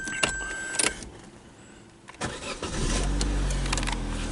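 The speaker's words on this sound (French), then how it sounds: "Ça démarre au quart de tour par tous les temps." An Opel Corsa C with its chain-driven Ecotec engine is started: a few close clicks and a brief whirring, then a short cranking burst that catches into a steady idle rumble.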